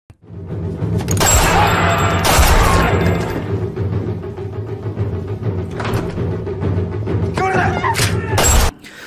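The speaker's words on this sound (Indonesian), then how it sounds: "Suara tembakan mulai terdengar" Chaotic, loud crowd commotion with sharp bangs bursting out at intervals, a couple of shots standing out near the start and end, over dense background noise.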